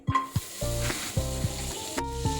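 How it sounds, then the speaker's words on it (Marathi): Butter sizzles in a hot wok with a few sharp stirring knocks, close and crackly for a couple of seconds. "प्रथम एक कढई घ्यावी मध्ये बटर घालावे"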